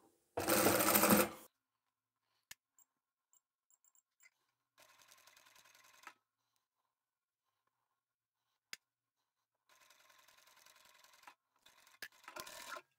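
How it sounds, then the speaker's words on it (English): A sewing machine stitches the main fabric of a bridesmaid dress in short bursts of steady whirring, separated by quiet pauses and small clicks and handling noises, close and alone. "we'll now go and sew the main fabric together as well"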